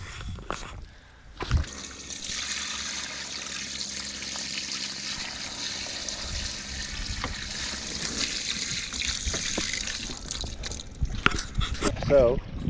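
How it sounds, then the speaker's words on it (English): Water runs steadily from a tap into a laundry tub in a tiny home while it fills, a continuous trickling splash with a clunk near the start and small knocks toward the end. "we just filled up with probably what I think is enough water"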